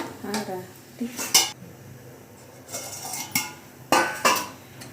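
A spoon clanks and scrapes against a metal cooking pot as vegetable biryani is stirred, in a few loud bursts of clinking separated by quieter pauses.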